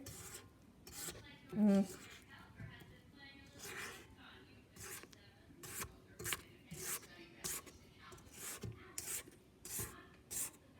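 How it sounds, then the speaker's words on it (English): A utensil scrapes cookie dough back into the center of a bowl, making repeated short rasping strokes of varying strength while a person talks and a louder thump sounds early on. "Scrape it back into the center, make sure we get everything together."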